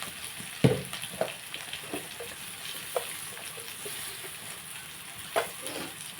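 Turmeric goes into hot oil frying in a pan, a steady hiss of sizzling punctuated by a few sharp clinks and scrapes of a spoon, fairly close, with no voices.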